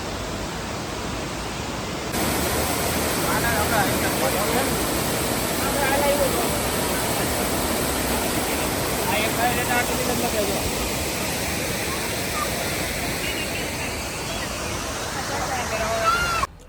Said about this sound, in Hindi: कोच्चि से मुन्नार के रास्ते में आपको एक बहुत अच्छा वाटरफॉल मिलेगा। ये देखिए मेरे पीछे